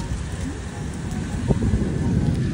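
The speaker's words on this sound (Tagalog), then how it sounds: "umiikot yung hangin." Wind rumbles and gusts against the microphone in a steady, heavy roar, with muffled background noise underneath.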